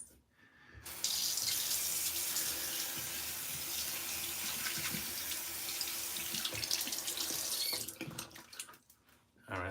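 Water runs steadily from a tap into a sink to wet a beard before a shave, a loud continuous splashing stream from start to near the end, cutting off into brief handling noises.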